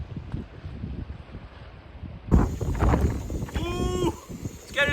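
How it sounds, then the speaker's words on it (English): Gusty wind buffets the microphone beside a harbour, a steady low rumble that swells and falls, with brief voice-like tones rising over it near the end. "it's getting a bit windy now"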